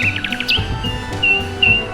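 A nightingale sings close by: a fast run of rapid trilled notes, then a sharp upward chirp, followed by two thin sustained whistles separated by brief pauses.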